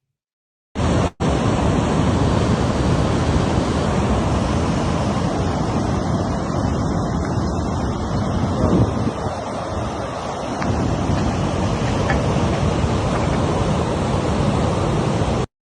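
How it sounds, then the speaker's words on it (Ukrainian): Water released through opened reservoir dam sluices rushes downstream as a steady, loud, broad roar, heavily buffeted by wind on the microphone, with no voices. "як реально розкрилися шлюзи і почали випускати воду із водосховища далі вниз по течії"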